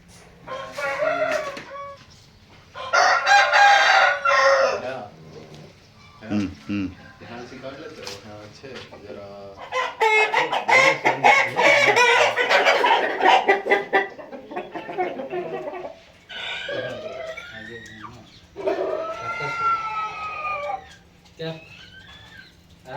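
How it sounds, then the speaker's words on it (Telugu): A native breed rooster crows and clucks in a village setting, with repeated loud crowing calls and scattered clucks while people talk over much of it. "అసలు జాతికి చెందిన కోడి"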